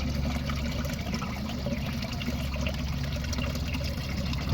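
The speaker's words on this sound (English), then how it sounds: "the pump pumps too much water" Water gushes and trickles steadily from an aquarium pump feeding a swirl filter, a continuous close splashing flow with a low mechanical hum underneath.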